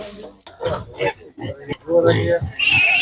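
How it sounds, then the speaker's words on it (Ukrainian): Piglets oink and squeal close by amid market bustle, with people talking underneath the animal noises. "Так, є такі поросята."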